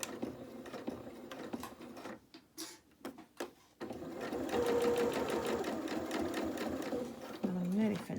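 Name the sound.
sewing machine chain piecing fabric advent calendar pieces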